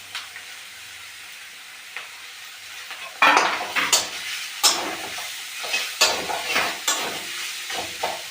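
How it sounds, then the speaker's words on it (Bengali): Carrot halwa with sugar being stirred and fried in a pan, a soft sizzle under repeated scraping and clanking of a spoon against the pan, with louder bursts of stirring in the second half. "চিনি দিয়ে একটু নাড়াচাড়া করে ভাজা ভাজা একটু হবে।"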